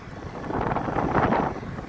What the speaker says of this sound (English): Man, is it a windy day.